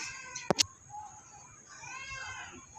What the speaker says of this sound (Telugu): ఖచ్చితంగా మా పిల్లి కూడా ఉండాలి